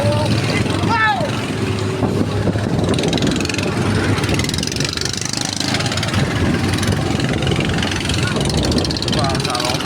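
Boat motors running on the water during a fishing trip with a net, a continuous loud engine drone throughout, with people talking over it.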